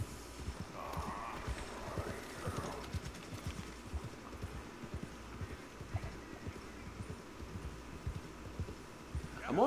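Horse hooves clop in a steady rhythm while riding through a video game, with a brief neigh mixed in, all at a moderate level.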